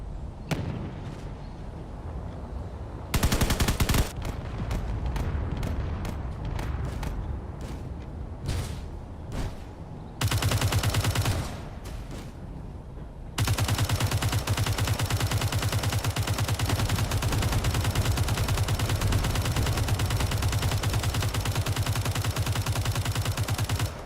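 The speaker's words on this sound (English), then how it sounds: "This cannon out here now has something to fire at." Cannon and other weapons in the Space Engineers video game fire in a dense, continuous barrage of booming shots and rapid bursts, loud and sustained with no talking.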